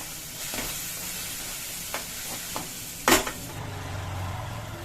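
Spoon stirring turmeric powder into green gram gravy in a pan, a few soft scrapes and one sharper clink over a low sizzle, close and alone.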